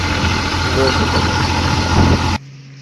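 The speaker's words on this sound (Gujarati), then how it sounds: "સાવન ટ્રેક્ટર લઈને શેષર જોડવા તો આપણે જઈએ છીએ" A diesel tractor engine runs steadily at close range on a farm trip to hitch a seed drill, with a continuous mid-low idling rumble that cuts off abruptly near the end.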